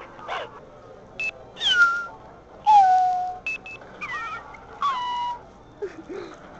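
A cat meows repeatedly, several separate calls of varying pitch, some drawn out and whiny, with short quiet gaps between them.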